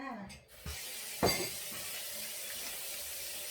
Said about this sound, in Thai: เปิดน้ำเย็นก่อนจ้า